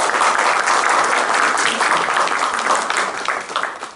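A community audience at a Sri Sathya Sai Baba 97th birthday celebration in Hamilton, New Zealand claps in dense, sustained applause, loud and even throughout before tapering slightly at the end.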